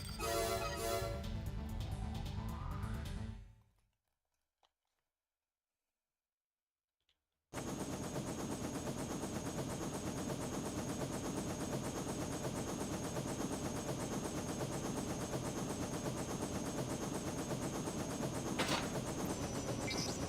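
Machine gun fire in Armored Core 2: Another Age, a dense sustained rattle with a short burst, a few seconds of silence, then a long unbroken stream of rapid loud shots over a mechanical hum.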